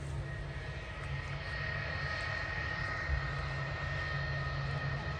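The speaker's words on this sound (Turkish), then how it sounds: "Bakın karşı taraftan uçak gidiyor." A propeller airplane drones steadily overhead, a continuous low engine rumble at moderate distance with no talking over it.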